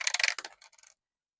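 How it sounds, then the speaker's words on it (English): Six-sided dice rolled onto a tabletop, a quick clatter of hard plastic knocks and rattles that thins into a few scattered taps before stopping, close and fairly loud with no talk. "And let's roll 6-sided dice."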